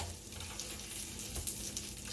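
Eggs and sausage sizzling in a pan for a honey bun breakfast sandwich, a dense, steady hiss and crackle held close throughout without talk.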